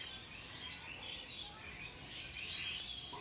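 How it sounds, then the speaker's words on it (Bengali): Birds chirping and twittering at dusk in a leafy rural village area near Memari, a steady layer of overlapping calls at moderate distance with no voices. "তেমনি সন্ধেবেলাও পাখিরা কিচিরমিচির করে জানিয়ে দেয় সন্ধে হয়ে গেছে।"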